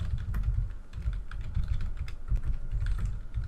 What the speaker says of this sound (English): I'm typing. People can probably hear it.